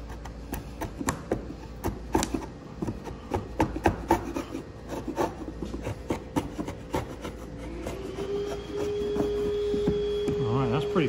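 Repeated rasping strokes of a blade shaving a wooden repair patch flush with a tenon on a radiused transom window, close up, in uneven bursts, followed by a steadier hum near the end.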